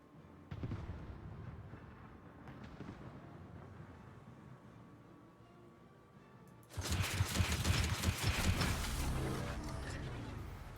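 Naval artillery booming from a Pan American tier 10 La Pampa destroyer in World of Warships, with rumbling shots early on, then a loud sustained barrage of blasts and crackling debris that dominates the second half.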